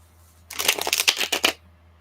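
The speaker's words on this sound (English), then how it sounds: "I promised myself I wouldn't over shuffle today." A deck of tarot cards is shuffled by hand in a quick, close burst of crisp riffling clicks lasting about a second, with silence before and after.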